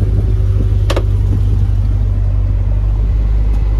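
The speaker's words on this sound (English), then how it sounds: "I've got one tire jacked off the ground. Right now we can spin it." A jacked-up Land Rover Discovery II wheel spins freely with the transmission in neutral, a loud, steady low mechanical drone running throughout, with a single brief clunk near the start.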